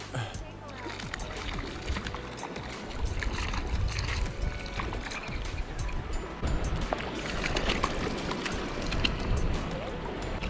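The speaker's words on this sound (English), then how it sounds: "Sorry about the wind, guys." Steady wind gusts across an open reservoir, roaring around a small fishing boat with choppy water noise, loud and continuous for the whole stretch, while someone talks over it.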